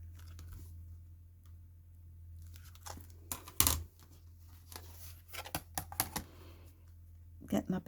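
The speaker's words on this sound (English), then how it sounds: "So let's just trim these edges." Paper pocket edges for a handmade winter gnome journal being trimmed with a craft cutter that has a dull blade, giving scattered close crisp slicing and clicking bursts over a low steady hum.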